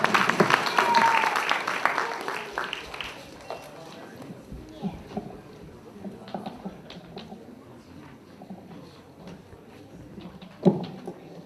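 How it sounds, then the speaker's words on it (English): An audience applauds before a guitar performance at a Kazakhstan cultural event, clapping loudest at first and thinning into scattered claps and shuffling, with voices in the background. "Round of applause, please."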